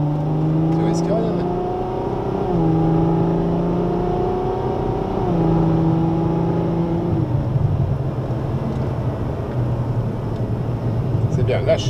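Ferrari F12 Berlinetta V12 pulling at full throttle around the Magny-Cours circuit, heard from inside the cabin, its engine note climbing through several upshifts in a loud, steady drone.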